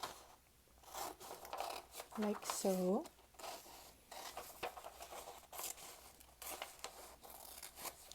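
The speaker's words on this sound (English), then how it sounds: "notice the sound of the scissors as it touches and as it opens" Scissors snip through a paper heart cutout with a few short crisp cuts and rustles, while a voice talks softly throughout.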